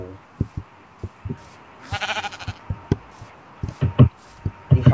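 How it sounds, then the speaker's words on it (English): A sheep bleating in Minecraft survival play, a short nasal bleat amid soft game steps and clicks, with a few other brief bleats and thuds scattered around it. "I saw a sheep."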